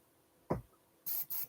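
Spray paint hisses over a stencil in two short bursts near the end of the clip, close and crisp, after a single soft low thump.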